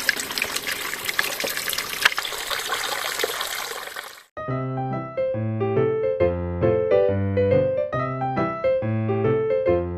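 A mountain stream on Doi Luang Tak rushes in a steady, broad wash of water for about four seconds before music abruptly takes over.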